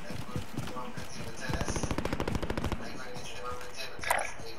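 Automatic gunfire in Call of Duty: Modern Warfare, a rapid burst of shots with fainter scattered shots before and after, heard under a speaking voice.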